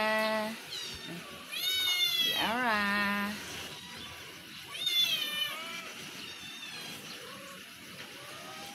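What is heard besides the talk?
cat meowing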